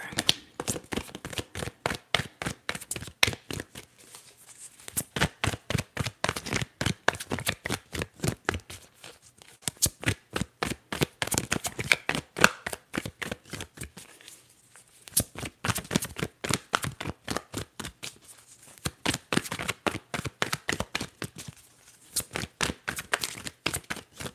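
Tarot cards riffle-shuffled over and over in quick, crisp bursts of dense flicking, broken by brief pauses between rounds, close and alone.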